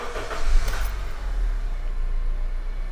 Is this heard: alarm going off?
no